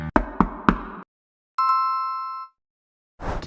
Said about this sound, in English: he would suddenly receive an ominous knock on his door